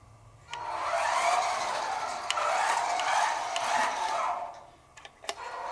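An Eachine EAT11 1/14-scale 4WD RC truck runs at full throttle, its electric motor giving a loud, steady whirring whine for about four seconds before easing off, with a few sharp ticks and clatters near the end.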